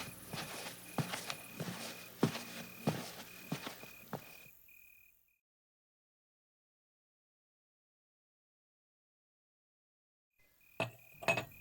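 Glassware clinks and rattles at night while someone gets a drink, with soft footsteps and small knocks among the clinks. A long silence follows, then a few more close, bright clinks, all quiet and with no talking.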